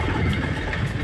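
A motorbike engine rumbles low and steady at slow speed along a rough, rocky mountain road with no proper surface, close and continuous with a gritty, uneven drone.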